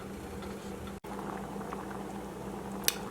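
Lentils in tomato sauce coming to a boil in a pot, a continuous soft bubbling and popping with one brief dropout and a single sharp tick near the end.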